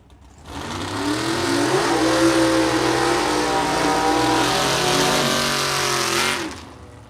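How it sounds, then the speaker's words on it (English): Side-by-side vintage drag car burnouts under the lights at Byron Dragway on a Friday night: two loud engines roar at high revs together, rising quickly and holding a sustained howl for about six seconds before cutting off abruptly. "you gotta love the side-by-side burnouts under the lights at Byron Dragway on a Friday night"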